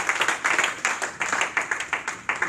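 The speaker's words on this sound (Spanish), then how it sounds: "¿Cuánto dan ese aplauso?" A church congregation claps in quick rhythmic bursts, a fairly faint, evenly pulsing patter of hands with little else audible.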